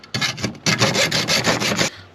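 A small hand saw rasps through a metal air filter grille on an E36 325i turbo, in two bursts of steady back-and-forth strokes, close and fairly loud.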